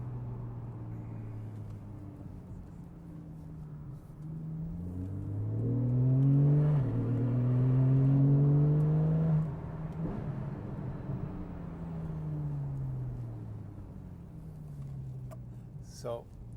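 Engine of a Porsche 911 Carrera S (991.1), naturally aspirated, revs and swells to a loud climb, then drops back to a lower drone as the car passes and settles, with talk nearby.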